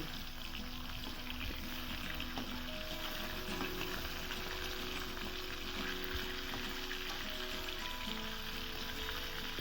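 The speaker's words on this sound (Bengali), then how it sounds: "তেল ভালো করে গরম হয়ে গেছে। আমি মাছগুলো ভেজে নেব।" Steady, dense sizzling of live-caught barramundi (bhetki) fish frying in hot oil, continuous and fairly loud throughout, with no voices.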